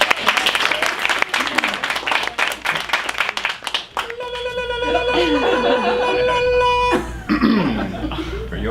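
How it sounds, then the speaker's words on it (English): An audience at an amateur improv show claps loudly for about four seconds, dense and close. The clapping then gives way to a sustained tonal sound with some background murmur. "Let's give them a round of applause."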